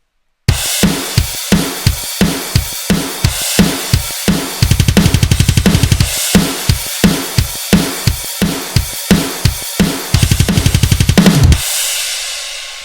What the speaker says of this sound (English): So it's a sort of rocky drums that I've created